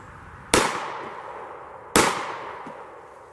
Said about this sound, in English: let's try the G2C and 115 grain Remington hollow points